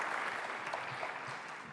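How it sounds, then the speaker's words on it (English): Audience applause at a Dearborn innovation night event honoring a presenter, Ahmed Anadi: a brief, fairly quiet wash of steady clapping from a crowd, continuous without pauses. "let's give a round of applause to Ahmed Anadi"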